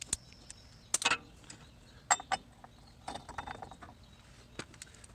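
A ratchet with a 1.25 inch socket working on a disc mower gives sparse metallic clicks and clinks with a couple of quick rattling bursts, close but fairly quiet, with no talk.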